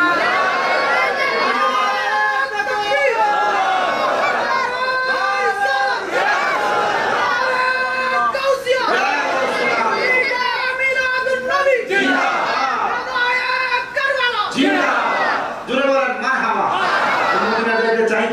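A large crowd at an outdoor Islamic mahfil gathering in a Bangladeshi village shouts takbir in loud, repeated surging chants, each burst rising and falling in rhythm, close and forceful.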